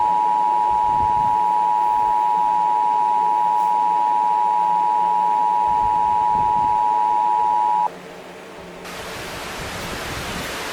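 An Emergency Alert System attention tone holds as a single loud, steady beep for about eight seconds, then cuts to a hiss of static noise.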